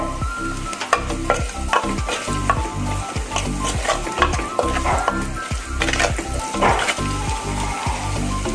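Ginger sautés in hot oil in a pan for Kerala sadhya mulaka pachadi, a continuous sizzle broken by a regular series of scraping stirs of the spoon, close and fairly loud.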